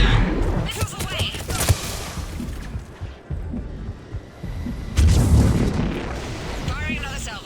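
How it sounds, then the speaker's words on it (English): A missile salvo fires in the video game Mass Effect 3, with a dense volley of booming launches and rumbling blasts, a lull, then another heavy burst, loud and near, with voices heard under the explosions. "Missiles away!"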